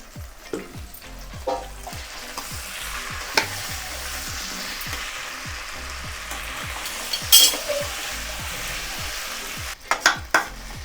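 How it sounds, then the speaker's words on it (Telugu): Chilli chicken with tomato sauce and pepper powder is stirred in a hot frying pan, giving a steady sizzle with a regular rhythm of scraping strokes and a few sharper clinks of the utensil against the pan. "అన్నీ వేసినాం కదా, మంచిగా కలుపుకుందాం."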